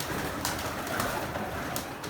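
Teddy-breed pigeons coo softly indoors in a large room, making a low, continuous murmuring burble with a few brief flutters and no talking.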